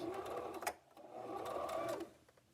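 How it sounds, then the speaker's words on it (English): Sewing machine running a back stitch through fabric with a lining piece, two steady whirring bursts separated by a brief pause, close and moderately loud with no talking. "And finish sewing. Back stitch."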